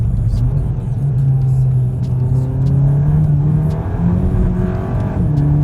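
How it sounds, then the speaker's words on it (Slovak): A Volkswagen Golf GTI Clubsport engine roars steadily under hard acceleration, its intake loud and close, with a deep droning tone climbing slowly in pitch. "Ale to sanie robí brutálne zvuky."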